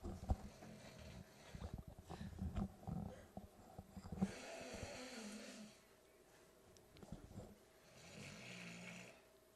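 A person snores loudly and steadily into a live microphone during a girls' high school soccer match broadcast, with rhythmic, raspy breaths repeating through the whole stretch.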